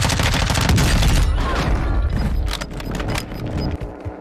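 Airstrike gunfire in Warzone 2: a dense, loud barrage of rapid shots and booming impacts, strongest at first and then trailing off into scattered, fainter bursts.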